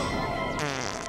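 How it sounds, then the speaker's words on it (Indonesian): A buzzy, rasping fart sound effect in an Indonesian comedy sketch, loud and continuous for about a second, alone without talk. "Nah, tuh kan kentut."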